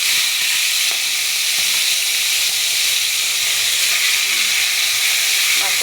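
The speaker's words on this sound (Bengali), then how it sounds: "এবার তেলে দিয়ে ভেজে নেব।" Fish head rubbed with salt and turmeric frying in hot oil, a steady loud hiss and sizzle that holds unbroken from start to finish with no voices.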